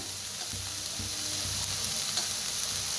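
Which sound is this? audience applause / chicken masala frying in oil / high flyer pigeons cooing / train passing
chicken masala frying in oil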